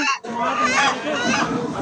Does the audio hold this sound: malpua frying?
no